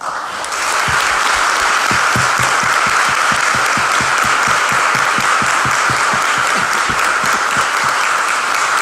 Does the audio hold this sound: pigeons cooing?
no